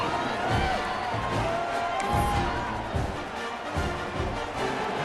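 A stadium crowd in the EA Sports College Football 26 video game gives off a steady, dense roar of murmuring and scattered cheers, loud and continuous throughout with no single standout shout.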